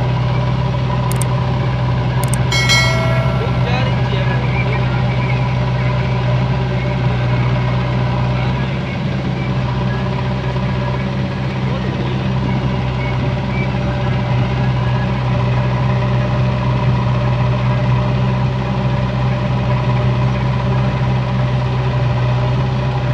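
A Powertrac Euro 50 tractor engine runs steadily at a loud, close idle throughout loading, a continuous low rumble and vibration with no change in pace.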